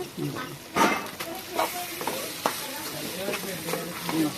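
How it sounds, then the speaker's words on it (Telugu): Semolina (rava) is stirred and roasted in a pan for upma, giving repeated scraping strokes with a soft, continuous sizzle underneath, close and moderately loud. "ఇలా కలిపేసుకోండి. ఒక 5 నిమిషాలు వేపుదాం."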